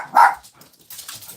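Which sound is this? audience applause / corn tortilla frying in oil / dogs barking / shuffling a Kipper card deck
dogs barking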